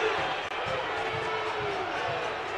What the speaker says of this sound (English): Warburg crowd's calling for two on us.